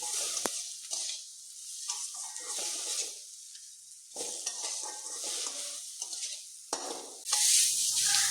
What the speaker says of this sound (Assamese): নিমখ দি আৰু অলপ টাইম ইয়াক মানে লাৰি থাকিম ভালদৰে ভাজি থাকিম